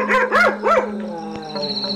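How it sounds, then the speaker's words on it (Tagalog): A dog near a rented house barks in a few loud, howling yelps, then goes quiet while a faint tonal hum carries on beneath. "Pero tanging kahul lamang umano ng aso ang sagot na naririnig niya."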